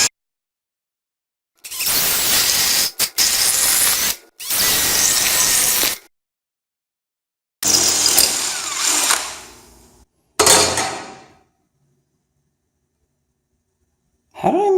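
A power drill bores holes in a metal plate for a DIY welding cart, in several loud, close bursts of whining and grinding separated by silent pauses.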